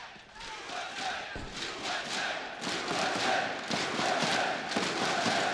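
An esports arena crowd at the IEM Chicago 2019 CS:GO grand final chants USA, a loud, continuous roar of voices swelling with rhythmic pulses throughout.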